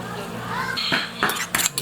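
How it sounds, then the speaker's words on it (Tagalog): Food being stirred in a pan, with metallic clinks and scrapes of a utensil against the pan, in short bursts toward the end. "Haluin natin ng maigi."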